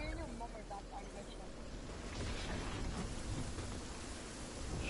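A Fortnite storm rolls in as a steady wash of rain and low rumbling, with thunder-like swells and a faint voice in the background.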